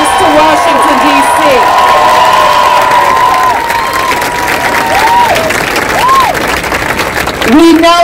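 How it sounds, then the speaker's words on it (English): A large crowd at a Pride event in Washington, D.C. claps and cheers steadily, with whoops and shouts rising over the sustained applause. "let's give her a big round of applause for her service to Washington, D.C."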